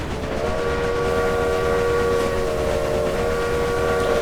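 A steam locomotive whistle in the video game Railway Empire blows one long, steady, mighty chord over rumbling rail noise, loud and unbroken, with no voices.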